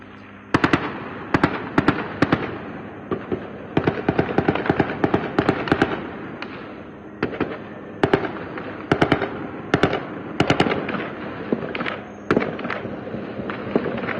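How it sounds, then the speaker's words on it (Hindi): Gunfire during clashes in Jenin cracks out in irregular bursts of sharp reports over about fourteen seconds, some shots in quick clusters and others spaced apart, loud and echoing, with no voices. "किस तरीके से गोलीबारी का वीडियो सामने आया है,"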